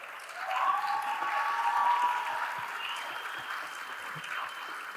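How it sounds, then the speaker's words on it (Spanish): A crowd at a panel event breaks into warm applause, swelling quickly and holding as dense clapping before easing slightly toward the end, with no talking over it. "le demos la palabra y un aplauso grande a Gloria Careaga."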